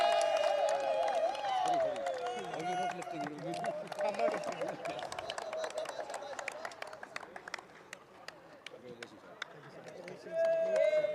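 A cricket audience at the final of the 36th Sharjah Ramadan T20 League applauds the Z Games Strikers captain, with scattered clapping and crowd noise under an announcer's amplified voice, the claps growing denser toward the end.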